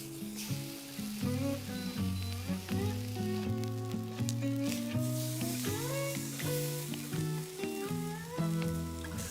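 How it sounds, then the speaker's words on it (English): A steak sears in a hot cast iron pan, its bright hissing sizzle running continuously beneath melodic background music that plays throughout. "Sear the steak on all sides."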